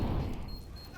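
A loud, rumbling grenade explosion in Counter-Strike: Global Offensive during a professional ESL Pro League match, a heavy deep boom that fills the whole second and slowly fades.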